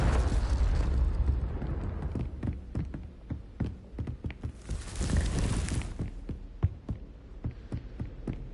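Spell explosions and blasts cast in Hogwarts Legacy, a rapid series of sharp booming bursts and thuds over a rumbling roar of combat, loud and close, with no talk.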